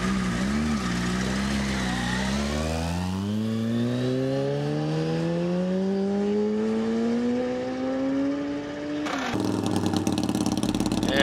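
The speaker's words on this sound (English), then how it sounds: "Here's another run by Alan on the short course." A racing motorcycle on a short-course speed run at a speed week event, its engine note climbing steadily in pitch for about nine seconds, loud and close, before an abrupt change to a rougher roar.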